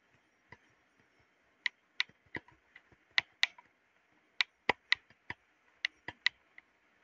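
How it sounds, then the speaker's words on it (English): A computer mouse and keyboard click in scattered, irregular taps and short bursts over several seconds, close and crisp with no talking. "We could use the mouse and keyboard."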